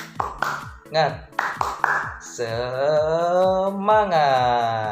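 Indonesian sixth-grade class does a "tepuk semangat" spirit routine: a few sharp rhythmic claps and taps up front, then sustained chanted voices in unison, loud and close, with the teacher's voice leading.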